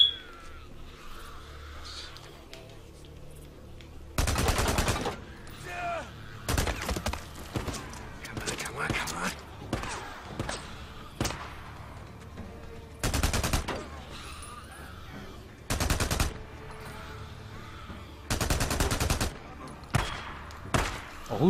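Gunfire in the video game Days Gone: loud, broadband shots in spaced bursts and single cracks over about twenty seconds, mixed with scattered thumps and faint character speech.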